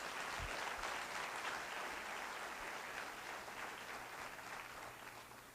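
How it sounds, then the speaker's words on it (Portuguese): A church congregation claps in praise of Jesus, a continuous, fairly faint wash of many hands heard from a distance. "Louve a Jesus com as suas palmas"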